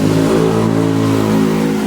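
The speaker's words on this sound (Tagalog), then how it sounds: "Ito naman yung ating wash motor." The wash motor of an LG automatic washing machine converted to manual runs with a loud, steady, close mechanical hum and whine, unbroken for two seconds.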